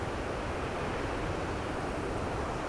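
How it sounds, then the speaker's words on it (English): Continuous broadband ocean surf rolling onto the shore in San Francisco, a steady wash of waves with some wind noise on the microphone, with no voices. "listening to the ocean waves"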